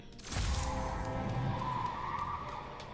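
A car skids on a city street in Marvel's Spider-Man, a sudden screech of tires followed by a sustained engine roar and rumble lasting a couple of seconds, fairly close.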